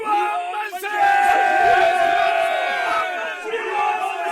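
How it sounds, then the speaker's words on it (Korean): A crowd of people raises a great, loud shout in unison, a sustained chorus of voices that swells and holds for several seconds, in a dramatised biblical scene. "그러자 백성이 크게 함성을 질렀다"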